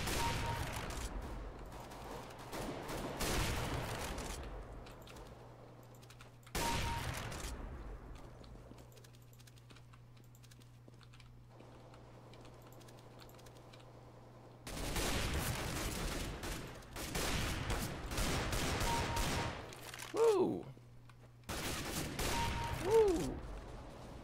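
Gunfire in the video game CS:GO comes in several dense bursts of rapid shots separated by quieter stretches, with a low steady hum running beneath the gaps.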